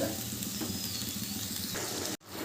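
Water poured into a pan of frying jackfruit curry with onions and spices sets off a loud, steady sizzle that cuts off abruptly near the end.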